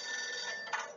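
A telephone ringing in the video game Max Payne 2, a steady electronic trill with a single brief burst of ringing. It is fairly faint and heard alone without speech.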